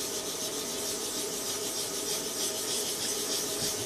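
Wet sanding of a varnished surface during a finishing job, a continuous close scratchy rasp with a steady back-and-forth rubbing texture and no voices.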